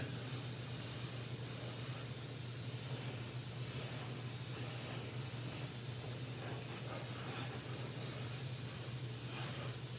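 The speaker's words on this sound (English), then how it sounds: "So I've got some Army War Painter tanned flesh in my airbrush." An airbrush mists thinned Army Painter tanned flesh paint in a light spray, giving a steady, close, even hiss that runs unbroken throughout with no talking.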